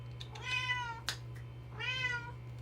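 A loud house cat meows twice, long drawn-out cries about a second apart, over a steady electrical hum from an air conditioning unit and a brief click between them.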